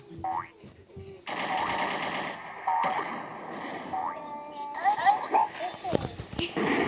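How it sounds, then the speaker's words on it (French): Rifle fire in a video game fight. Bursts of rapid automatic gunfire with sharp game effects come in several runs alongside excited talk from players. "On a un fusil versus fusil."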